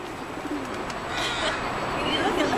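A pigeon cooing briefly at Granville Island amid busy outdoor background noise, the soft calls fairly close and faint against the bustle.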